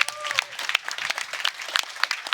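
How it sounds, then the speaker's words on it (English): A crowd applauds steadily at an Old School RuneScape Deadman tournament stage, dense clapping carrying on throughout with a brief tonal whistle near the start. "I think we can get a round of applause for everyone as well."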